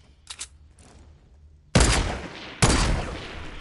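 Video game gunfire shooting something down: after a quiet stretch with a few faint noises, two loud, abrupt bursts of rapid shooting erupt close up, each one sustained and crackling.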